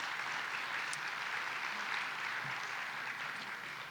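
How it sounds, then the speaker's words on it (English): Audience applause for the sponsors at Chabad's annual L'Chaim gala at Trinity University, a steady, dense wash of many hands clapping at moderate level, continuous throughout without talk. "So, round of applause for them."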